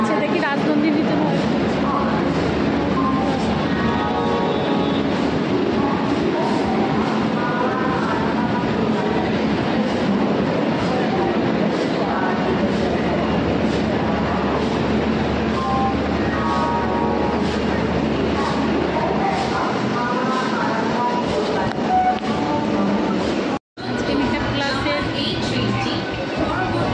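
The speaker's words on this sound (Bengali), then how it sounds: "তোমার সামনে ট্রেনে করে যাচ্ছি আজকে ক্লাসে" Steady rumble and rhythmic clatter of a Kolkata local train in motion, loud and continuous from the inside of a fairly empty carriage, with faint voices in the background and a brief dropout near the end.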